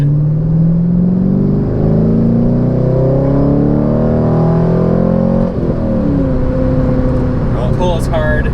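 A 2002 Chevrolet Corvette C5 accelerates hard from inside the cabin, its V8 engine note climbing steadily through a gear, then dropping briefly at a shift before pulling up again, loud and continuous.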